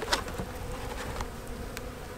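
Honey bees buzz steadily at a hive in January, a faint, continuous insect drone with no voices over it.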